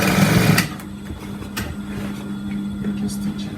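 A sewing machine stitching a sleeve into an armhole runs in a steady, close hum for a short stretch, with clicks and handling noise around it.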